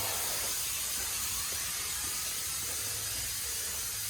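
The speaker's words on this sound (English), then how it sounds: "And I'm just sucking the fluid out. It's starting to get air again." A pump sucks transmission fluid out of a pan with no drain plug, giving a steady, continuous hiss and rush as it starts drawing air, loud and unbroken throughout with no talking.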